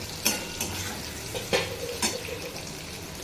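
Boiled potatoes frying in a pan on a home stove, with a steady low sizzle and several sharp clinks of a spoon stirring against the metal, close and without talk.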